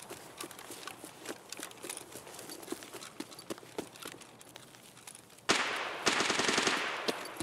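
Bursts of machine gun fire echo from a distance in Escape from Tarkov, quick repeated sharp cracks spread across the stretch, with a louder rush of noise near the end.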